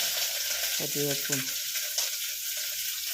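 Chopped onion and carrot sauté in a hot pan with curry leaves, a steady close sizzle and frying hiss running throughout with a few brief stirring clanks partway through.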